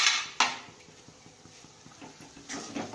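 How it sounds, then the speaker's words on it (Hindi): A metal spoon scrapes and clinks steadily against a pan while coconut mixture for coconut barfi (mansoob) is stirred over a low flame, with a few sharper knocks among the soft, repetitive scraping, close and fairly quiet. "ऐसे इसे चम्मच हिलाते रहेंगे।"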